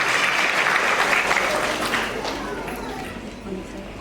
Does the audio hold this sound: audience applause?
yes